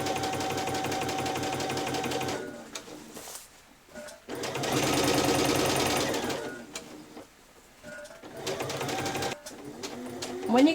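A sewing machine runs a row of gathering stitches on fabric for a child's dress, in bursts of rapid mechanical whirring that stop and start, with quiet pauses between runs.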